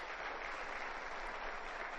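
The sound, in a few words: applause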